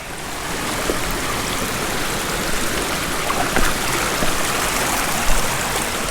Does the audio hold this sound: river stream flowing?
yes